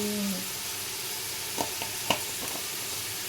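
Ginger garlic paste goes into a frying pan for egg biryani and is stirred, giving a faint, low sizzle with a couple of soft spoon clinks against the pan.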